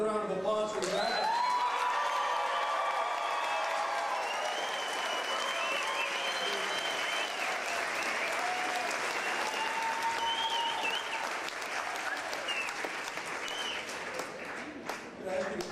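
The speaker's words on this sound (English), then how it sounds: "Another round of applause for the graduates." A long, steady round of audience applause for graduates at a high school graduation ceremony, dense and even throughout, gradually thinning near the end, with some voices faintly mixed in.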